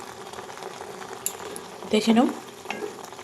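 Thick beetroot paste frying in a pan is stirred with a spoon, giving a soft steady sizzle and scraping under a brief spoken phrase from a woman.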